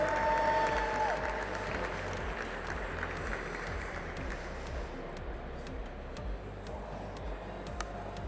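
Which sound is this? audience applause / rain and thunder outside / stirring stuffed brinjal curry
audience applause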